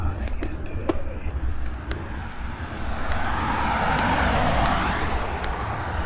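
Steady roar of highway traffic passing along a New England road, a broad continuous rumble that swells slightly midway, with faint road and wind noise throughout and no talking.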